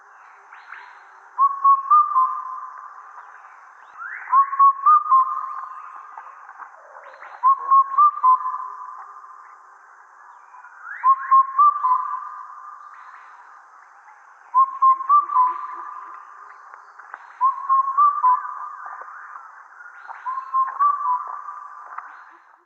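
Call of the kafal pako bird played from a recording: a clear whistled phrase repeated about seven times at even intervals, each a short run of rising notes then a held tone, with quiet gaps between.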